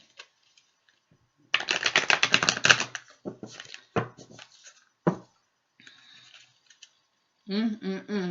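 A quick rattling riffle of tarot cards being shuffled, followed by softer scattered card taps and a brief voice at the end.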